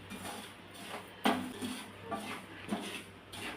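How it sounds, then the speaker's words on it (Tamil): Semolina is dry-roasted to light gold in a pan for rava puttu, heard as quiet spoon scrapes and a few clinks against the metal pan. "ரவா வந்து லைட்டாக பொன்னிறமாக வறுபட்டால் போதும், ரொம்ப அதிகமாக வறுக்கக்கூடாது."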